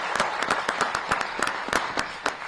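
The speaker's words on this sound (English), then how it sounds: "Round of applause, please." Scattered claps from an audience at a press conference, a sparse patter of individual hands rather than a full ovation, moderately close and steady for a couple of seconds.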